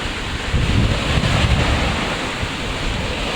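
Strong ocean waves break on the shore as a loud, continuous roaring wash, with heavy wind buffeting the microphone.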